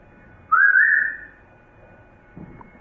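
A single person whistles one rising, sliding note lasting about a second, close and fairly loud, followed by faint low background noise and a soft thump near the end.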